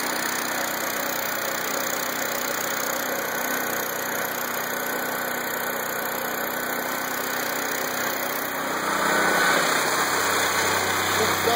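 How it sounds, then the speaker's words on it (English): Small engine, a 16-horsepower motor with no generator attached, running on wood gasifier gas: a steady, loud idle with an even mechanical drone that swells slightly near the end. "I don't have a generator on it, just a motor running."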